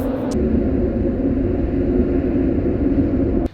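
A large bridge in Lisbon gives off a loud, steady low hum that drones on without pause, broad and rumbling, ending abruptly with a brief click.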